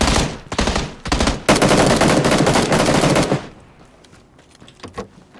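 Machine gun fire in PUBG sounds as loud, close automatic bursts: a few quick volleys, then a sustained stream of shots lasting a couple of seconds. It cuts off into quieter background noise with faint distant pops.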